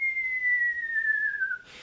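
A human voice imitates the whistle of a falling late-war RAF bomb: a single clean, sustained whistle that glides slowly downward in pitch for about a second and a half, then breaks into a brief breathy puff.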